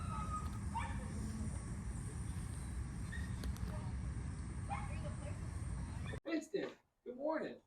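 Dogs at a training facility on their first day of training bark in loud, close bursts over a constant rumbling background, with a few fainter yips earlier and two strong barks at the end.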